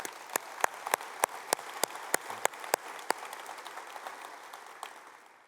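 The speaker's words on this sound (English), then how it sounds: "So please give a round of applause for the upcoming 23." Scattered applause at a cybersecurity keynote, with a small number of distinct claps spaced apart rather than a dense ovation, fairly quiet and thinning out toward the end.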